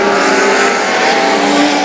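US Legend race cars racing at Bethel, with a loud, steady engine roar from a close pack of cars that holds at full volume throughout, with no voices.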